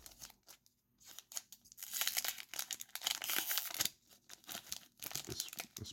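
A Magic: The Gathering booster pack wrapper is torn open up close with irregular bursts of crinkling and ripping foil. A near-silent start gives way to dense, choppy crackles that come in clusters.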